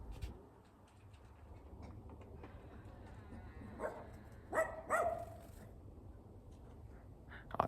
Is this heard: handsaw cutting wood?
no